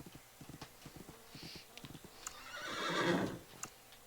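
A horse in a video game trots with quick, even hoofbeats, then lets out a loud, drawn-out whinny near the end, with no talking over it.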